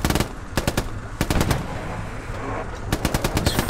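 Bursts of tank coaxial machine gun fire in the Hell Let Loose game: several loud, rapid rattling volleys of a few seconds each, separated by short gaps with a steady rumble of battle noise underneath.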